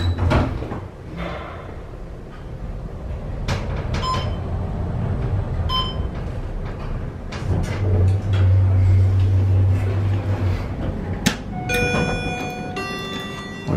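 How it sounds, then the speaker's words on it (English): Door motor of a Schindler MT 500A elevator at a resort, sounding strained, whirring through a long opening and closing cycle with clicks and a low hum, fairly close and steady with no talking. "That door motor sounds like it's struggling a bit."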